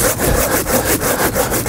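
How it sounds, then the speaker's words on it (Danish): A hand saw cuts through the trunk of a Christmas tree being felled outdoors, with steady, loud back-and-forth strokes in a fast, even rhythm. "Så jeg har tænkt mig at fælde det her træ."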